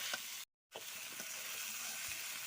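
Soaked, drained rice fries in a pan while being stirred, a steady crackling sizzle broken by a brief silent gap and soft scraping taps.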